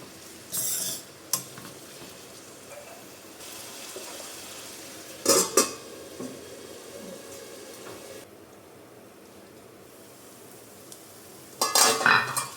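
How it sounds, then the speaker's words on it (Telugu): Keema mixed with salt in a pan over onions, the spoon scraping and stirring against the pan under a low steady sizzle, with a few sharp metallic clinks as the lid goes on. "వేసేసి చక్కగా సాల్ట్ అంతా కలిసేలాగా కలిపేసుకొని మూత పెట్టేసుకుందాం"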